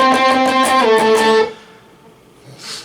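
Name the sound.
electric guitar playing octave solo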